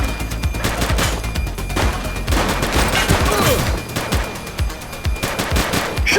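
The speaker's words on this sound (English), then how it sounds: "Shots fired!" Gunshots in The Precinct, a police video game, ring out as a sustained series of loud, rapid shots and bursts that overlap in a dense, chaotic exchange with a few heavier booms.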